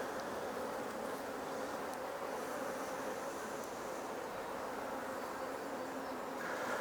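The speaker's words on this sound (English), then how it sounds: "the bees are now bringing in some of the blackberry" Honey bees swarm around an open Langstroth poly hive, a dense, steady drone of buzzing that stays close and even the whole time, with no talk.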